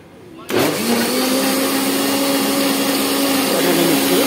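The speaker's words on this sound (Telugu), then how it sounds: "వాటర్ వేసి మిక్సీ పడతాను" A mixer grinder whirs loud and steady as it churns cream with water into butter, starting abruptly and holding a constant motor drone with a shifting pitch, while a voice talks over it.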